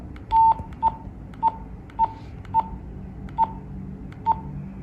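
Keypad button beeps from a Motorola T82EX walkie-talkie, seven short, evenly spaced electronic tones, close and clear over a low background hum.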